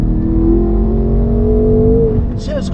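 A 720 HP BMW M5 engine revs hard as the car accelerates, a loud sustained rising drone heard from inside the car for nearly three seconds, with brief talk near the end.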